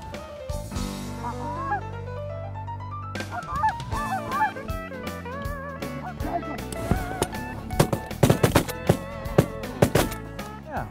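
Wild geese honk repeatedly as they come in to decoys on a Saskatchewan hunt, a loud chorus of overlapping calls from several birds, some near and some farther off, with no talking.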